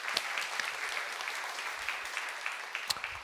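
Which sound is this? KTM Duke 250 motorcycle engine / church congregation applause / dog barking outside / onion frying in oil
church congregation applause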